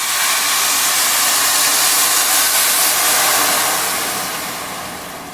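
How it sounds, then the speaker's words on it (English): White wine hits a hot risotto pan to deglaze it, giving a loud, broad, steady steam hiss that slowly fades toward the end. "I add a little bit of wine just to"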